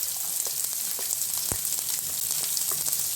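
Onions and green chillies frying in hot oil, a steady close sizzle with scattered pops and crackles and one sharp clack partway through, no voices.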